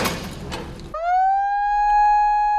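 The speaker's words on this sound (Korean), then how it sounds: "사이렌 소리가 울려 퍼진다." After a second of rustling noise, a loud steady blasting warning siren begins wailing at a tunnel construction site, a sustained high tone holding level through the rest.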